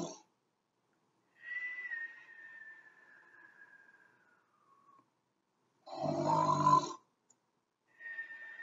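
Voices imitate snoring in a children's bedtime story reading: a long, drawn-out nasal tone that fades, then a loud, rough snort, then a final short snore starting, with quiet gaps in between.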